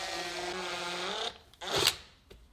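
A power drill drives a screw with a steady whining hum of motor harmonics, then cuts out. Brief clicks and a short burst of scraping contact follow, close and fairly quiet.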